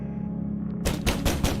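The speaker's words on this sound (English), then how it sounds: "There is a loud banging on your door" Loud repeated banging on a wooden door in the video game The Pale Beyond, several heavy knocks in an uneven rhythm cutting in after a quiet low hum.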